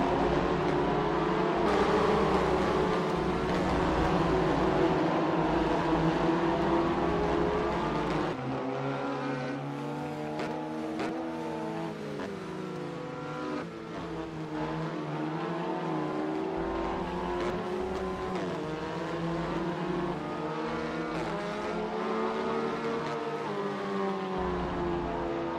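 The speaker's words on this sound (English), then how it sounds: "as we come into the final lap of this 3rd race of the Honda Racing Simulator Championship" Race cars on the final lap in the Honda Racing Simulator video game: a loud, continuous engine drone with rising and falling pitch as several cars run together, with no talking.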